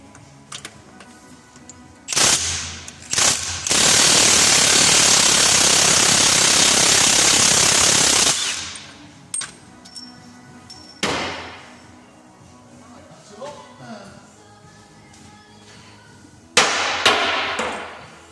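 Impact wrench with a 30mm socket removing the ball joint nut on a Land Rover Defender Td5 A-frame: short bursts, then a long loud continuous rattling hammer of about six seconds, followed by scattered clanks and brief bursts.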